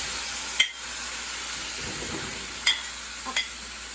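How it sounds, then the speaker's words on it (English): Metal spatula striking a pan while chopping Italian stewed tomatoes: a few sharp scraping clinks at irregular intervals over a faint steady sizzle, close by. "So I used my metal spatula and I chopped them"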